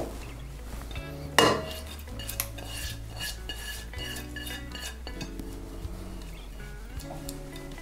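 Cutlery and a bowl clink and scrape as chopped onion is added to minced meat, with one sharp clatter early followed by lighter scattered taps and scrapes, close and without talk.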